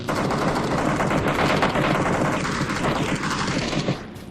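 Rapid automatic gunfire in the battle royale video game PUBG (Battlegrounds), dense rattling bursts of shots close and loud throughout, easing briefly near the end.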